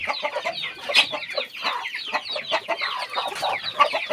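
Several native chickens cluck and chatter continuously nearby at a farm's egg-laying area, a busy overlapping flock with occasional sharper squawks.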